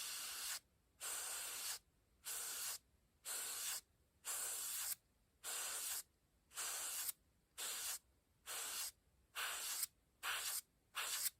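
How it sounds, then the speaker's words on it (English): Airbrush spraying paint onto a 1/72 Bandai X-Wing model to create blast marks, heard as about eleven short hissing bursts in a steady on-off rhythm, close and fairly quiet with silent gaps between. "I'll draw the airbrush down to create the blast marks."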